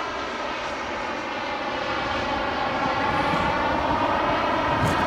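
Jet aircraft at an airfield produce a loud, continuous broadband engine roar that slowly swells over several seconds. No voices are heard over it.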